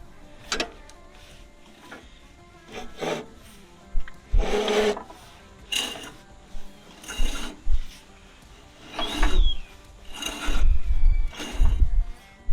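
A lawn mower engine is turned over by hand, giving a series of uneven mechanical whirring and clicking bursts separated by pauses, close to the microphone and growing more frequent toward the end.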